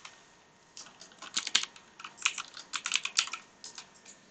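Quiet typing on a computer keyboard while entering Python code, with an irregular run of soft, clicky keystrokes that comes in bursts and short pauses, close and on its own with no talking.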